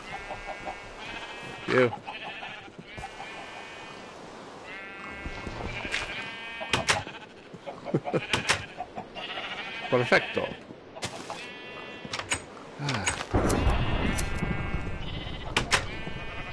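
Blocky Minecraft sheep bleat over and over during a video game session, several short wavering calls spread through the stretch and mixed with game sounds, while someone talks briefly between them.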